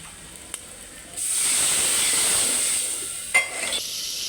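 Spices with salt and turmeric fry in a pan with a sudden hissing sizzle that starts after a quiet moment and then holds steady. A sharp clatter rings out near the end.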